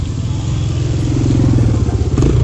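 A motorcycle engine passing close by on a road in Palawan, a loud steady drone that swells slightly as it goes by, with faint voices nearby.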